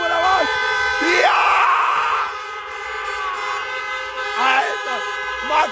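Car horns honk at a drive-in concert with a packed crowd of cars, sustained blaring tones swelling and fading over several seconds, mixed with excited voices shouting nearby.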